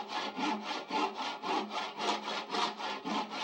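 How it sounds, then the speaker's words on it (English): Hand saw cutting through wood in Amanda the Adventurer 2, with about a dozen steady back-and-forth rasping strokes in an even rhythm, loud and close, with no voices. "We'll use the saw to cut the wood."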